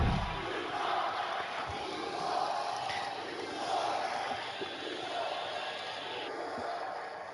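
A wrestling arena crowd roars and chants continuously, a dense loud wash of many voices rising and falling, with commentary mixed underneath.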